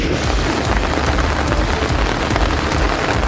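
Heavy rain pours steadily in Karaikal, Puducherry, a dense, continuous loud hiss of drops on surfaces with no pauses and no voices.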